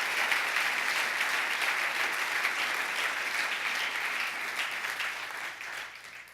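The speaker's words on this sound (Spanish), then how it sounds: "Dele fuerte ese aplauso al Señor." A church congregation claps loudly and densely in a sustained burst that holds steady, then thins and fades out over the last second.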